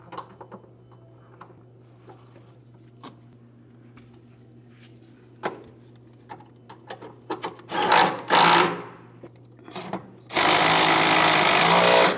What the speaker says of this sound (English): we'll continue on with our two mounting bolts. We want to make sure we start them both in, and then we'll snug them up